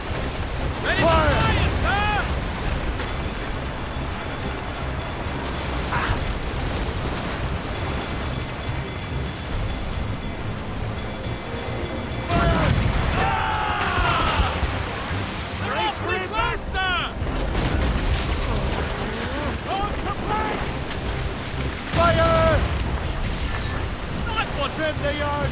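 Ship cannons fire in a naval battle in Assassin's Creed Rogue, with several heavy booms spaced through the stretch over wind and surging sea, while voices shout orders.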